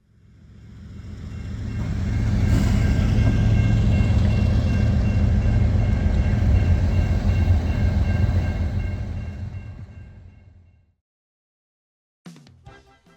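Classic Dash 8 diesel locomotives roll past in Winnipeg, a deep engine rumble and rail clatter swelling to a loud, steady pass before fading away, then a brief faint noise after a short silence.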